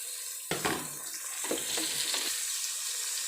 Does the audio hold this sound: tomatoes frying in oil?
yes